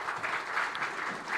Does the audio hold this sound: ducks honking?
no